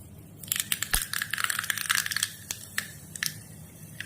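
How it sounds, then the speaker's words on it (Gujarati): Mustard seeds hit hot oil in a small ladle for tempering jowar idli batter, giving sharp, scattered crackles and pops in quick irregular bursts that thin out toward the end, heard up close with no talking. "હવે એમાં આપણે રાઈ નાખીશું"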